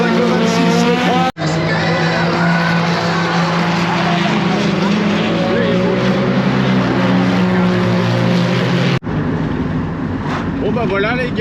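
Off-road SSV race vehicles roar at the start of a 24-hour off-road race in France, with a loud, sustained engine drone, briefly cut twice, and an announcer speaking over the racket.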